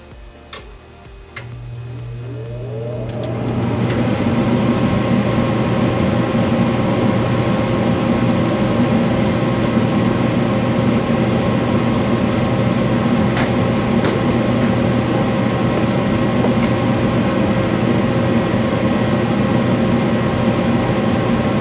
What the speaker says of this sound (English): Then the igniter should come on and glow. It'll glow for a few seconds till it gets to the right temperature, and then the gas will kick on